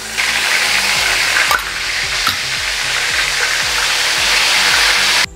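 Garlic paste frying in hot oil with cumin and carom seeds, a steady loud sizzle with occasional sharper pops and spatters, running evenly throughout with no voices.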